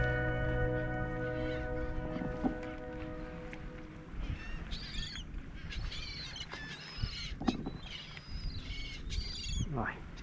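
A flock of seagulls calls in scattered, squealing cries from near and far over the steady hum of a boat engine, with the calls growing busier toward the end.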